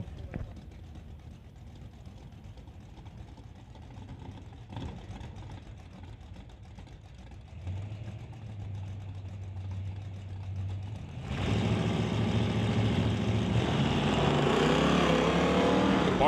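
At a drag strip, a 1958 Oldsmobile races a 1970 C10 on a qualifying run: a distant engine drone builds, then a louder, broad roar takes over toward the end.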